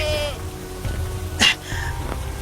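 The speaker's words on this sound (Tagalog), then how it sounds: "May kambing sa di kalayuan." A goat left out in the rain bleats from a short distance, one wavering cry near the start, while steady rain patters throughout with a few sharper drip sounds.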